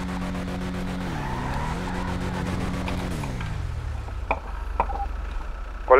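A car in a video game police chase drives with a steady engine drone and skidding tires, the engine pitch dipping and rising before dropping off, followed by a few sharp knocks and clatters.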